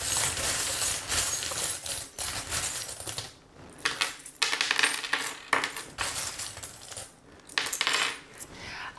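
Small metal charms for a fortune-telling reading tossed and shuffled together, giving repeated bright jingling clinks and rattling bursts with brief pauses, close and fairly loud, no talking.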